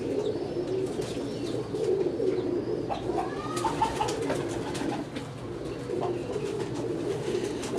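Teddy pigeons coo softly and repeatedly, overlapping low throaty calls with occasional rustling and faint chirps in the background.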